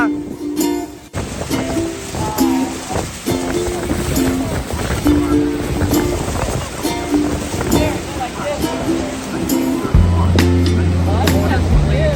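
Loud rushing water and wind roar around a tourist boat at Niagara Falls, with spray splashing over the passengers in bursts and people talking and shouting throughout.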